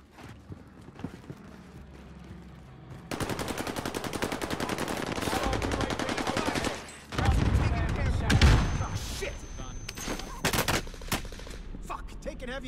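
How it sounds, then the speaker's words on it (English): Heavy automatic gunfire in Call of Duty Warzone on the Caldera map, sustained loud machine-gun bursts with booms, a quieter stretch then another intense volley, with a player talking in between. "Heavy fire."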